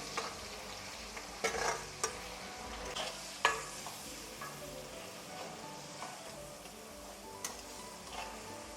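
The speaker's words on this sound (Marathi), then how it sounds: "हा बारीक केलेला मसाला आहे ना तो त्याच्यामध्ये परतून घ्यायचा लसूणचा पण" Ground masala with garlic stir-fried in a pan for a large batch, a continuous close sizzle broken by spoon scrapes and taps against the metal, with no talking.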